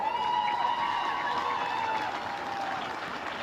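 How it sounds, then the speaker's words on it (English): Applause from the crowd at an under-17 open championship grand final, honouring the Richmond Bulldogs: a steady wash of clapping with a sustained tonal sound running through it. "A round of applause to the Richmond Bulldogs"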